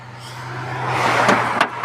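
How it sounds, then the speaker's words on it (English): A used car's engine idles steadily after an hour of repair work, a low hum with rising mechanical noise and a couple of brief clicks near the end. "Got the car running."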